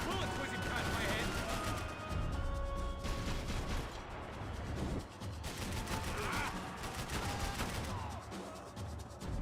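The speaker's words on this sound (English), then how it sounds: "Bullets whizzing past my head!" Gunfire and bullets whizzing in the Max Payne 3 video game, a dense, continuous barrage of shots and impacts with brief lulls, loud and close, mixed with faint voices.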